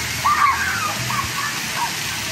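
Steady rush of splashing, spraying water at a children's splash pad on Coco Cay, with faint children's voices mixed in the background.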